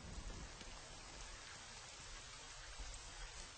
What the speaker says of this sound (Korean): 어느새 비를 뿌리기 시작했다